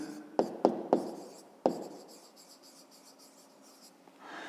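A pen on paper during a fifth-grade math exercise: a few sharp taps, then soft, continuous scratching strokes of handwriting.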